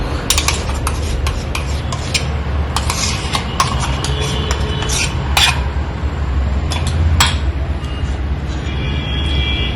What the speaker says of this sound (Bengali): তো আমি মাছটাকে মাখিয়ে নিচ্ছি